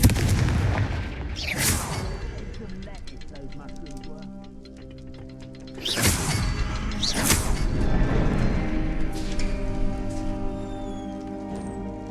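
Confringo fire spells in Hogwarts Legacy go off as repeated booming blasts with crackling tails, set against a rich musical score. A voice speaks over part of it.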